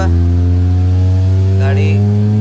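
A Honda Civic EJ with a fault that makes it burn through petrol drones with a steady, loud engine hum, then briefly climbs in pitch as it revs before settling back.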